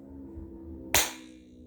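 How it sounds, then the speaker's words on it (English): A single sharp hand clap in a small cubic room with dense walls, striking loud and close over a quiet hum, then ringing out in a short, bright echo that fades over half a second. "It was the sound of me clapping"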